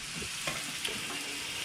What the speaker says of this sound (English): So let's put our patty in.